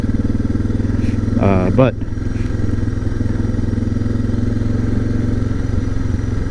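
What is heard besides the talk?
Suzuki DR650 motorcycle riding off pavement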